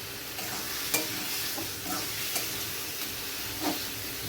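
Potatoes and spices sizzling in a pan, a steady frying hiss with occasional scrape-like stirring strokes, fairly quiet and even throughout with no voices.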